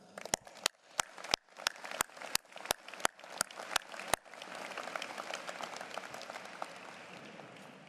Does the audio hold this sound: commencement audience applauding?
yes